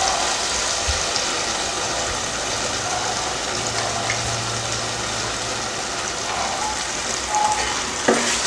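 Ground masala paste frying in a pan with mashed tomatoes for a curry-leaf kuzhambu, a dense continuous sizzle with light stirring scrapes and a clunk near the end.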